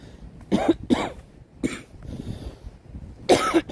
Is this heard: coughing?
yes